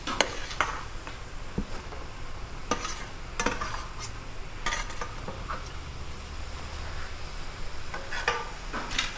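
Fish head being stirred with bish kochu and spices in a pan, busy scraping and clacking strokes of a spatula over a soft sizzle, close and steady with no talking.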